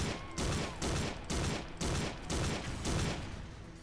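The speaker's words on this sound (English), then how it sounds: "So, I'm gonna try and make this car explode." A car explodes in the video game Driver 3: a sustained rapid burst of booming, crackling blasts in regular pulses, like a chain of explosions, loud and continuous with no voices.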